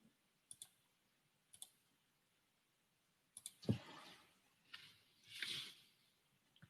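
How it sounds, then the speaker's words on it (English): Keyboard typing during an online workshop session: a few isolated key clicks, then a denser burst of tapping and clattering, quiet and close with no talk over it. "Yeah, she's typing."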